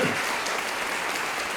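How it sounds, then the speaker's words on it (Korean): Audience applause at an academic conference: steady, dense clapping from a seated crowd, continuous and fairly loud for the whole stretch with no voices over it. "다시 한번 큰 박수 보내주시기 바랍니다."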